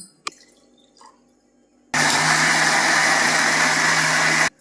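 A mixer grinder runs with a jar of sanduballi chutney and a little added water, starting abruptly after a few small clicks and holding a loud, steady whirring roar until it cuts off.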